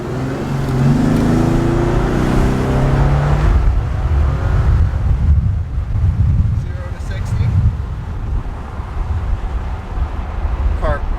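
A Bentley GTC convertible accelerates hard on the road, its engine note building steadily and dipping through quick gear changes, with wind rushing past the microphone and a voice talking over part of it.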